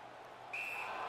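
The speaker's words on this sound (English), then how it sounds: "A whistle for an offside." A referee's whistle in the NHL 19 hockey video game blows one short, shrill blast for offside, cutting in over steady arena background noise.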